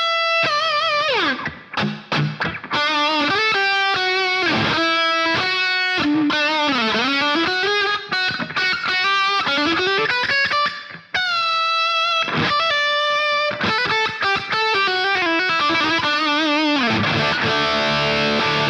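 Pop punk electric guitar lead tone with heavy reverb, a continuous melodic line of sustained and bending notes with a slightly distorted edge, loud and alone with no talking.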